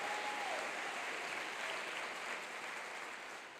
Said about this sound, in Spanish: Un aplauso de esos gloriosos